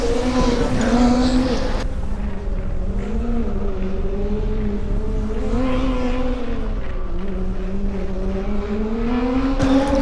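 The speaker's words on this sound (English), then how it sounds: "Yeah, this car sounds brilliant." A Formula Student race car on an autocross run, its engine note rising and falling through gear changes and corners, loud and continuous, passing near.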